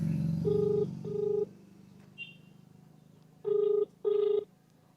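Ringback tone of an outgoing phone call placed to an electricity department official, heard as four short repeated beeping bursts in pairs over a low steady hum, clear and fairly loud with no talk.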